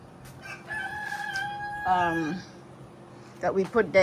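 A rooster crows at a backyard chicken coop, one clear drawn-out call in the middle followed by a burst of clucking from the hens near the end, with soft background rustle.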